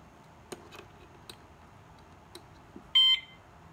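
A wireless siren module gives a short, bright electronic beep near the end, following a few faint clicks from button presses in a quiet room.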